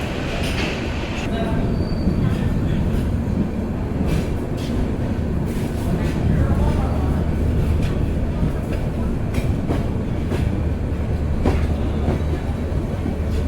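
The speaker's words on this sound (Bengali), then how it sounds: "আন্তনগর উপবন এক্সপ্রেস ছেড়ে গেল কমলাপুর রেলওয়ে স্টেশন থেকে" Upaban Express intercity train running at night after leaving Kamalapur railway station, a continuous loud rumble of wheels on track with faint squeals and clatter heard from on board.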